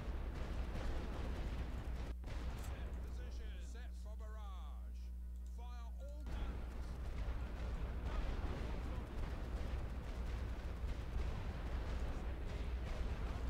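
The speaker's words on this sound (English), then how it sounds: "Set position, set for barrage. Fire all" An artillery barrage fires in a World War I video game on the Western Front, a dense, continuous rumble of booms and blasts that thins briefly in the middle while a voice is heard, then swells again.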